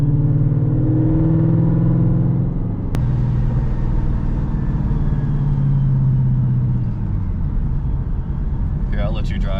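A Ford Mustang S197 engine rumbles steadily while creeping along at low speed in first gear, a close, low drone with a slight rise in pitch, with people talking over it.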